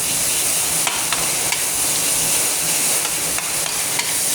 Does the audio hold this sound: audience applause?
no